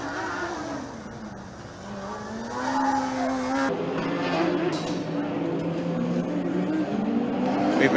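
Formula Student race car circling the endurance track at Formula Student Germany 2018, its engine droning steadily at a distance with rising and falling pitch, under continuous commentary.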